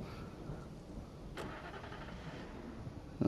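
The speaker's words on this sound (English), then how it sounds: "And a car with spotlights on the roof, yes." Car engine in Alan Wake Remastered, from a car with spotlights on the roof, idling as a low steady rumble at moderate distance with a brief sharp click partway through and a knock at the end.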